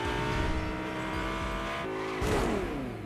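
A motorcycle in Fortnite drives with a steady engine drone, its pitch holding and then shifting upward near the end, loud and continuous with no talking.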